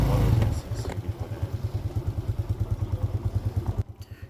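A motorbike ridden on a food delivery run gives a steady, rapid low engine thrum with even pulsing beats, close and fairly loud, before the sound cuts off near the end.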